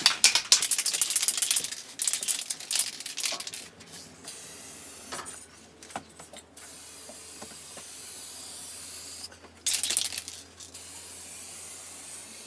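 Aerosol spray cans hiss in repeated bursts as paint goes onto a Mercedes SLK R170 during a car respray, loud at the start and again near the end, with quieter gaps and faint handling noises between passes.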